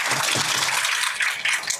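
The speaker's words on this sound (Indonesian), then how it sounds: "Tepuk tangan." Audience applause at the opening ceremony of a Ramadan boarding program for 12th-grade students at SMA Hang Tuah 2 Sidoarjo, school event; sustained dense clapping at steady loudness throughout, with no voices.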